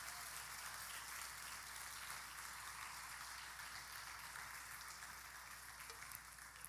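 A church congregation claps in worship during a sermon. The sound is a faint, dense, continuous patter of many hands, heard from a distance without pause.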